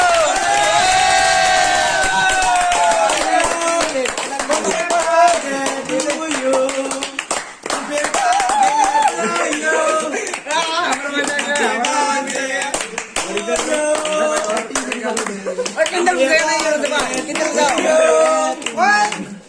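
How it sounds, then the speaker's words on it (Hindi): A group claps continuously at a birthday party in a hostel, loud and close. Several voices sing and shout over the applause throughout. "ताली बजाओ।"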